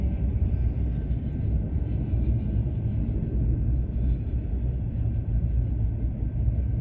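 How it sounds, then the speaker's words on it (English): A toy train gives a steady low rumbling and rattling throughout, rolling along a track close by, with no voices. "the small train will move"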